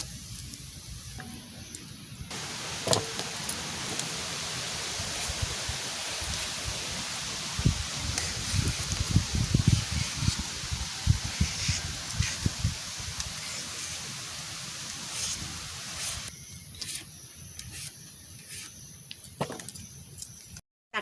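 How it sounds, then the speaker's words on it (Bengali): Steady broadband roar of strong monsoon wind with rain, gusting throughout with rustling and occasional knocks, no voices. "বর্ষার যেমন আবার হাওয়াটা বেশি হচ্ছে ভীষণ হাওয়া হচ্ছে"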